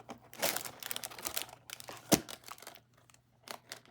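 Accordion-folded paper lottery tickets are pulled and handled, giving close crinkling and rustling in irregular bursts with one sharper crackle midway, quiet between the bursts and with no talking.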